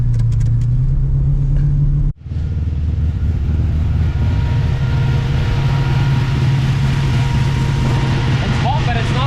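A VN Executive car with a built high-compression 6-litre engine and Turbo 400 transmission runs close by, a loud steady idle rumble broken by one brief drop near two seconds, with people talking over it.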